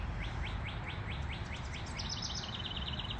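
Birds chirp outdoors in a rapid series of evenly spaced high tweets that quicken toward the end, heard over a steady background hiss with no speech.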